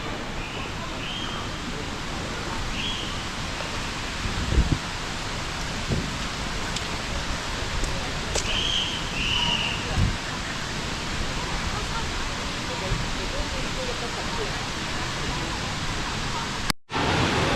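Erawan Falls, a waterfall in Thailand, gives a steady broadband rush of falling water at the first level, constant and enveloping, with a brief dropout near the end.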